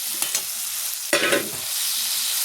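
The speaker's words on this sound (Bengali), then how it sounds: "মাছটা দিয়ে একটু ভাজা ভাজা করব।" Rohu fish hitting hot oil bursts into a sharp sizzle, preceded by a couple of soft clacks, then settles into a steady crackling fry.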